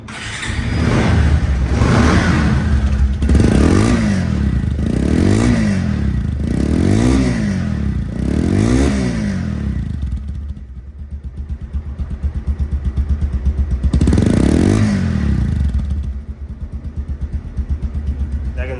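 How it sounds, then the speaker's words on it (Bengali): A Bajaj Pulsar double-disc motorcycle from 2023/24 in showroom condition runs close by, revving up and down in repeated surges, then idling with a steady putter before revving again. "এখন সাউন্ড কোয়ালিটি শোনাবো তো বাইকটি সাউন্ড কোয়ালিটি শুনলে আপনারা আরও পরিষ্কার হয়ে যাবে"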